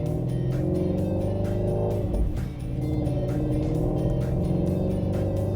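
A Ford Mustang Shelby GT350 with a Corsa exhaust drives under power, its engine a loud, steady droning growl close by, with a brief dip midway before the note pulls on again. No talking.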